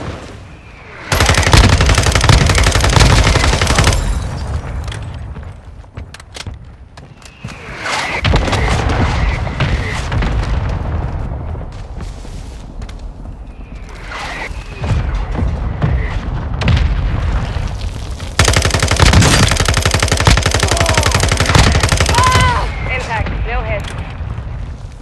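Fire mission strike in Call of Duty DMZ: loud bursts of explosions and rolling gunfire come in heavy waves, with booming impacts near the start and again near the end, and players talk over the din.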